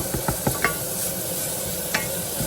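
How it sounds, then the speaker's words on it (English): Ground pork frying with garlic, ginger and green onions in a pan, a steady sizzle with several sharp scraping stir strokes near the start and end, close and moderately loud with no voices. "Add 150 grams of ground pork,"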